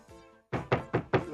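Four firm knocks on a door in a steady rhythm, close and loud, coming right after a short quiet stretch.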